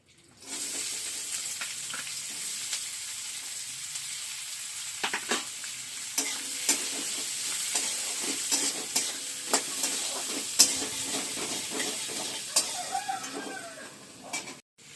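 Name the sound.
chopped onions frying and stirred in hot oil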